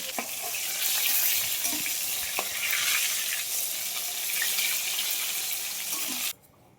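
Large pieces of bhola fish drop into hot oil for a poppy-seed fish curry, setting off a loud, dense, continuous sizzle that stays steady and then cuts off abruptly near the end.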